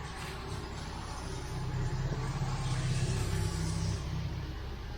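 A 1969 MGB's engine runs steadily after starting, a low, even idle rumble that rises slightly in the middle, with no talking.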